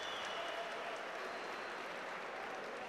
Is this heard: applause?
yes